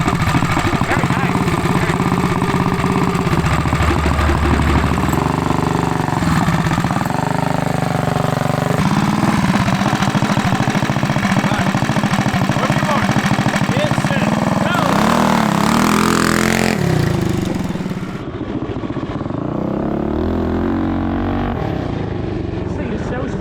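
Tillotson 236cc racing engine on a mini bike with a thumb throttle, running with a loud buzzing drone that rises and falls in pitch with throttle, ending in a sharp high rev before dropping back, close by, with people talking.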